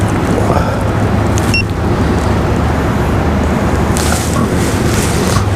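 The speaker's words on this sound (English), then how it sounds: "The wind is pretty strong today" Strong wind blows outdoors by a dam on a river bank where people fish and wade, making a loud, continuous broadband roar that buffets steadily throughout, with no speech.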